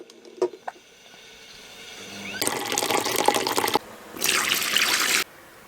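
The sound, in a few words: tap water running to fill a bath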